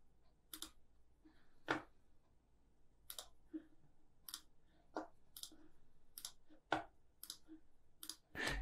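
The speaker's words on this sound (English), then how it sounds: "This is a lot of clicking." Computer mouse clicking while working in Adobe Illustrator: sharp, isolated clicks spaced roughly half a second to a second apart, close and fairly quiet, with some faint softer taps between them and no talking.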